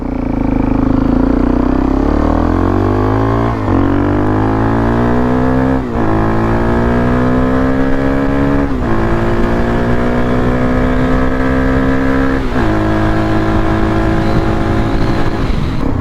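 A small Dizzer engine revs hard at full throttle, a loud continuous buzzing drone whose pitch climbs in repeated sweeps, dipping briefly between pulls, with no talking.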